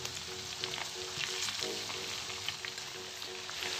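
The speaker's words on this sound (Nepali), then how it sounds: "यसलाई चाहिँ अलिकति रातो रातो ब्राउन बनाउने चाउलाई फ्राई गर्ने चाहिँ यसो" Chau noodles frying in a pan for a Rai-style waacheepa dish give off a steady, close sizzle with soft scraping from stirring, continuous throughout.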